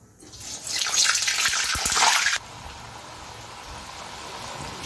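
Small rolled dough balls dropped into hot oil in an iron pan for a paal varai sweet, a loud bright sizzling burst for about two seconds that suddenly drops to a steady, quieter frying hiss.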